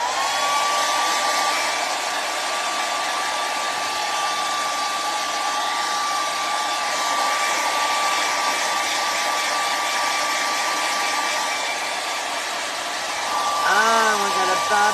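A hair dryer blows steadily on the first coat of decoupage glue on a three-tier stand, a loud continuous whoosh with a faint whine running nearly the whole time, cutting off near the end.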